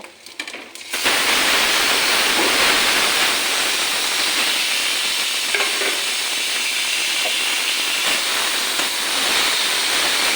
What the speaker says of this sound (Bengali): পুঁই পাতার শাকটা আমি এখন দিয়ে দেব